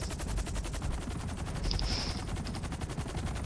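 Rapid automatic gunfire in the video game GTA rattles in a dense, continuous burst, loud and close, with no talking over it.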